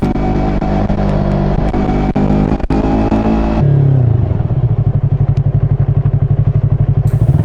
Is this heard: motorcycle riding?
yes